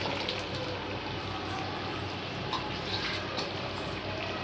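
Steady rushing water with a broad, continuous splash, like liquid poured into a pot, running evenly throughout with no voices.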